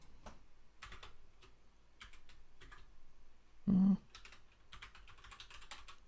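Keystrokes on a computer keyboard come in irregular bursts of clicks during coding work, with a short loud thump partway through and one person speaking faintly now and then.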